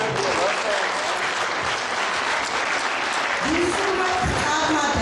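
Sustained applause from a large audience at a televised charity telethon featuring Georgian choreography and folklore, dense and steady throughout with a brief swell near the end.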